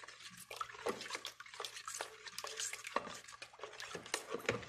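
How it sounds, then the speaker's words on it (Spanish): Rice horchata being stirred with condensed milk, liquid sloshing and swirling in a container with rhythmic strokes and light clinks of a utensil, fairly quiet and close, no talking. "También le vamos a poner la leche condensada. Vamos a mezclar muy bien."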